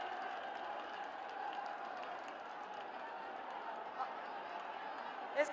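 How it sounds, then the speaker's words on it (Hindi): Faint, distant crowd applause at a large outdoor public rally with the prime minister, a steady muffled wash of clapping with a few sharper claps standing out, and no clear speech. "जोरदार तालियों के साथ में"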